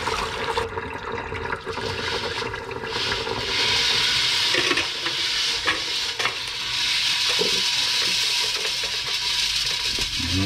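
Water is poured slowly off refined pure gold pieces into a container, a continuous splashing trickle with faint clinks of metal, close and steady for the whole stretch, with no voices.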